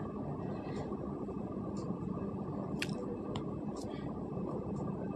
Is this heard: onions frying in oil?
yes